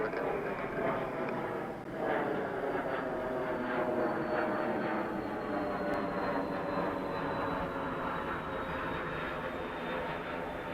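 An airplane takes off from runway 20 at Edmonton International airport, a loud sustained engine roar heard steadily from a distance for about 11 seconds, with faint radio chatter underneath.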